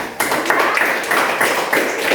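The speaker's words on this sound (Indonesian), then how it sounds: "tepuk tangan untuk kelompok 1" Students in a classroom clap together for a group, rhythmic bursts of hand claps repeating in quick succession, fairly close and lively.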